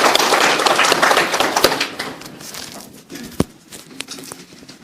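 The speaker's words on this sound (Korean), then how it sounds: "우리 하나님께 영광의 박수 올리도록 하겠습니다" A church congregation applauds together in a dense burst of clapping that fades out over about two seconds, leaving a few scattered claps and quiet room sound.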